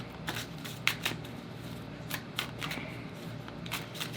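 A Wheel of the Year tarot deck is shuffled by hand in a quiet room, with repeated soft riffling bursts and crisp card flicks at close range.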